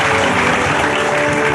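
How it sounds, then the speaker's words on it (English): Applause from the audience at an Asia Pacific leadership conference fills a brief moment, a loud, dense burst of many hands clapping together with no voices over it. "Can we give a round of applause to everyone who is here present right now?"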